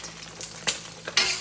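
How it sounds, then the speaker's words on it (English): Egg frying in a wok while being stirred, a bright sizzle with a few sharp scraping strokes of a utensil against the metal, close and without speech. "you're just really frying the egg"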